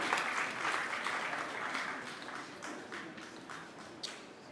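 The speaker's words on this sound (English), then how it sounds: "The more you clap, the faster they come." An audience at a startup pitch event claps steadily for several seconds, a dense patter of many hands that gradually thins, with a few sharper claps near the end.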